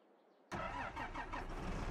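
A tractor engine in Farming Simulator 22 cranks to life after a quiet moment, then settles into a steady, loud mid-pitched idle with slight rhythmic pulsing.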